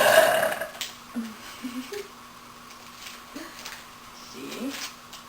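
A woman burps on a couch, a loud burst at the start followed by a few smaller, short belch-like sounds spread through the rest of the moment in a quiet room.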